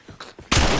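Gunshot killing an enemy in The Last of Us video game, a few soft footstep-like thuds followed by one sudden, loud, close blast that rings out to the end.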